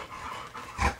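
A yellow English Labrador puppy pants softly and gives a short whimper near the end, heard up close in a quiet room.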